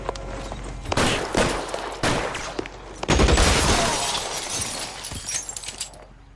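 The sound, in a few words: gunshots in L.A. Noire video game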